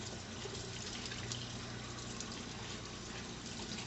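Water runs steadily over a reusable tea bag being rinsed, a continuous close splashing gush with no talking.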